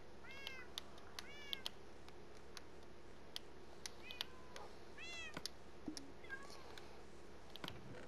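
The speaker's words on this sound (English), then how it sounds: "Let's also get all the cats over in this corner." Cats in the Minecraft video game meowing repeatedly, several short rising-and-falling mews scattered across a quiet background along with small ticking clicks, faint and without talk.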